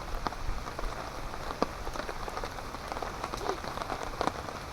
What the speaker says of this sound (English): See where the rain's dripping.